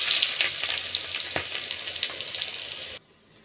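Onions hit hot oil already holding asafoetida and cumin for a lobia dal tempering, a loud close crackling sizzle with stirring clinks that runs steadily, then cuts off abruptly near the end, with no speech.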